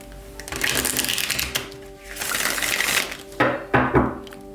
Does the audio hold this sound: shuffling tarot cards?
yes